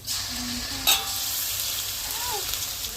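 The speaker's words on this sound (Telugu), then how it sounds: "అల్లం తెల్లగడ్డ పేస్ట్ అయితే మంచిగా అయితే మగ్గనిద్దాము." Ginger garlic paste sizzles steadily in a pan with spices for a chicken curry, a constant bright frying hiss with one sharp clatter near the start and faint stirring scrapes, no talking.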